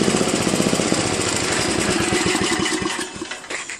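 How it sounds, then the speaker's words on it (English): A 1981 Craftsman LTV10 lawn tractor with its original flathead Briggs engine running close by, a loud, rapid, even chugging that tapers off slightly at the end, with no talking. "This is the original engine."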